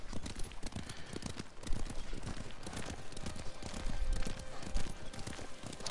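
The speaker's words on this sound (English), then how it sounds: "Our horses are running like in the exact same." Rapid, overlapping hoofbeats thud and clatter as horses gallop in the video game Ghost of Tsushima, with no voices over the steady quiet rhythm.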